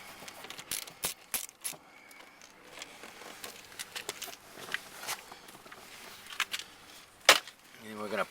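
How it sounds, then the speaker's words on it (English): A hand tool works screws out of a dash panel on a Pontiac G6, giving scattered faint ratcheting clicks and small plastic knocks close by, with quiet talk in between. "We're going to remove these two screws."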